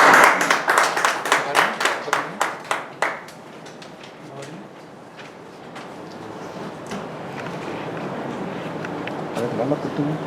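Audience applause at a Tamil literary society's Iftar gathering in Riyadh welcomes the society's president to the stage, a burst of rhythmic clapping that fades after about three seconds into room murmur and talk.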